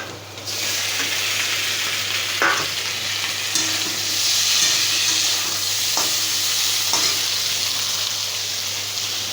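Boiled potatoes land in a pan of fried onions for aloo paratha filling and fry with a steady, loud hiss, with a few faint clicks of stirring.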